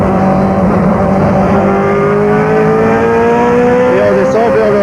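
A BMW race car at Spa-Francorchamps during the 2004 24-hour race brakes and accelerates through the tight Bruxelles corner, its engine droning loudly and steadily with rising and falling pitch, while a voice talks over it.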